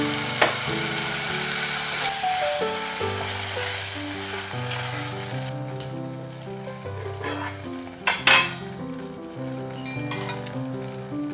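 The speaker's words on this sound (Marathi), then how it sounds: "त्या आता थोड्याशा आपण तुपावर भाजून घेऊया" Steady soft sizzling of boiled vermicelli roasting in ghee, close by, with occasional scraping stirs and a couple of sharp clinks, music playing underneath.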